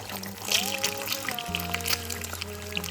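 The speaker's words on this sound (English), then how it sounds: "Pour the egg mixture into the center of the hot oil. You'll hear a satisfying sizzle." Egg mixture poured into hot oil for an egg stir fry, giving a brief pouring trickle and a sizzle under steady background tones with some voice present.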